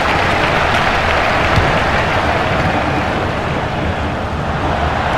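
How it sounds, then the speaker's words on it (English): A steady, roaring stadium crowd in the 2014 FIFA World Cup video game during Italy versus Uruguay, a continuous broadband wash of cheering that urges the team forward, loud and unbroken. "Crowd urging Italy forward."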